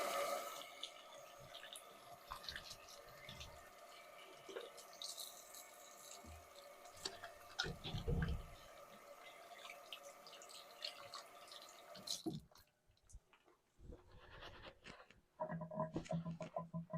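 Hands being rinsed under a running tap at a bathroom sink before lathering shave soap, a steady close stream of water with splashing and dripping that cuts off near the end, followed by a few quieter drips and small movements.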